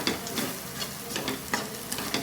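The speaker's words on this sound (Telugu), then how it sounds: "ఇవన్నీ వేసుకొని ఫ్రై చేసుకోవాలి" Onions, spices and salt fry with a steady sizzle in a pan for a spicy boti curry, broken by several soft scraping knocks as a spoon stirs them, close and without talk.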